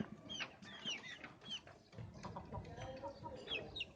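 Seal breed rooster and black Seal hen clucking close by, a series of short warbling calls and clucks over a low background rumble, with faint voices in the background.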